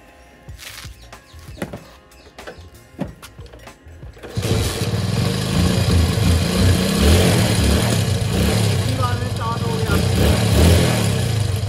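A ten-year-old motorcycle left standing for a long time gets kicked, then its engine catches on the first kick and runs steadily and loudly. Before the start, a few clunks and quiet shuffling can be heard.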